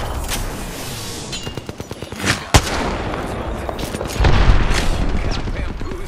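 Rapid bursts of gunfire and heavy booms from a Valkyrie video game match, dense overlapping shots and explosions at high volume, with a voice speaking between them.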